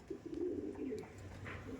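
Andhra pigeons cooing softly, a steady low burbling coo that rises and falls continuously through the short stretch, close by and fairly quiet with no talk.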